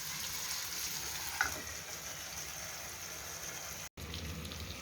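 Tandoori chicken frying in a covered pan gives off a steady, quiet sizzle with a faint crackle, continuing evenly and broken only by a momentary dropout near the end.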